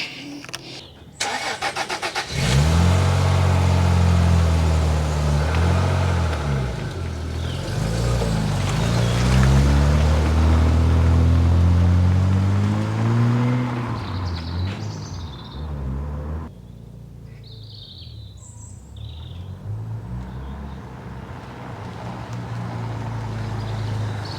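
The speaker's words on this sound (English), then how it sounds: "I'm just going to give the car a quick drive around the yard" An MG ZT 190 car starts up, then drives slowly around a yard with its engine rising and falling through revs close by. The engine eases to a quieter run toward the end, with no voices.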